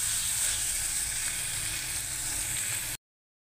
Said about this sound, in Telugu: టమాటా ముక్కలు వేసేసుకున్నాం. ఇవి కూడా బాగా వేగాలి.